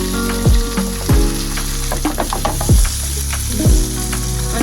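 Asparagus tips sizzling in a hot pan, a steady crackling fry with several louder bursts and clatters as the spears are stirred and moved.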